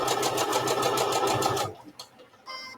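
A sewing machine runs a fast, steady stitch through quilt patchwork blocks for a disappearing nine patch and four patch, then stops abruptly partway through, leaving faint handling noises and a brief whirr near the end.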